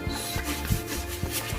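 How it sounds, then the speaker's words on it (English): Sponge scrubbing a toilet, quick rhythmic rubbing strokes repeating several times, close and fairly quiet, with no talking. "I'm going to go in with this sponge and scrub it."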